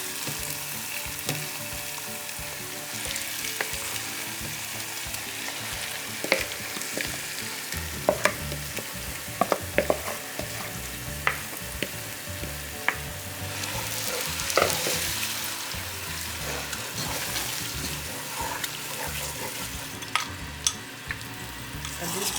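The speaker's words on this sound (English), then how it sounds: "After letting that fry for about 2 minutes, you want to add your onion mixture." Frying in a pan for smoked catfish soup in Guinean cooking: a steady, close sizzle that runs throughout, with scattered clinks and scrapes of a utensil against the pan.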